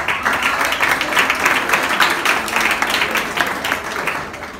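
A live audience applauds Maria Madalena, a departed member of the ensemble, in a dense, even wash of clapping that stays strong through most of the span before easing slightly at the close.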